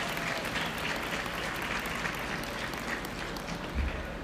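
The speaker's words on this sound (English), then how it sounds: "let's give all of our contestants a nice round of applause." Steady, dense applause fills the room from an audience at a Dairy Princess contest, a continuous wash of many hands clapping for the contestants with no pauses.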